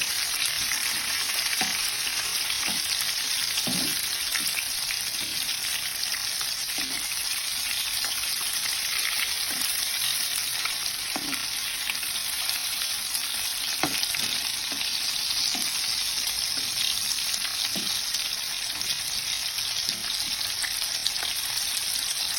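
Broiler chicken pieces with liver and neck fry in hot oil, a steady close sizzle broken by occasional pops and the scrape of stirring, with no talking.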